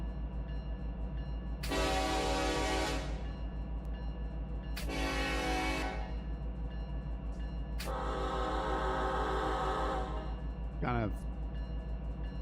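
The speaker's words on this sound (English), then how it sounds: "We've never changed the whistle on this thing." Union Pacific locomotive horn in the Run 8 train simulator game sounds three loud blasts, the first two short and the third longer, over a steady low engine rumble.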